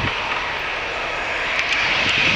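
A jet airliner engine runs through a ground test at Manchester Airport, a steady loud broadband roar with a high whine, heard from a distance.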